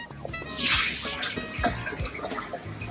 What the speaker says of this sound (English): I have soaked this rice overnight and I'm going to drain the water